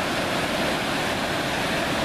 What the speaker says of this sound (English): That's Elliot Creek down there.